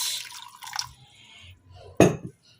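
Water added to a bowl of aloe vera, with a few soft drips and trickles early on, then a sharp, loud splash of liquid near the end.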